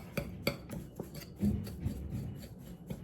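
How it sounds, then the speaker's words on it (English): A whisk or spoon stirs dry ranch seasoning mix in a bowl, giving soft scraping, rubbing strokes in an uneven rhythm with light clinks against the bowl, close and fairly quiet. "You can use a whisk, you can use a spoon, you can use whatever you want. Just stir it on up."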